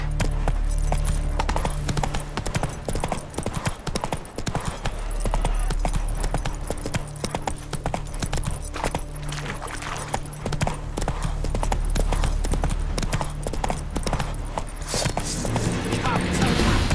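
The horse Roach from The Witcher 3 trotting, its hooves clip-clopping in a steady, continuous rhythm over a low rumbling game soundscape, with a voice speaking briefly.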